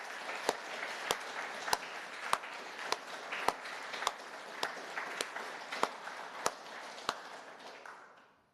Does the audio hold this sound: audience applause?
yes